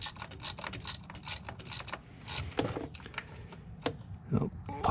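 Hose clamp pliers working a coolant hose clamp on a 2008 VW Passat during a coolant leak repair, giving a string of close, sharp metallic clicks and ratcheting snaps at an uneven rhythm.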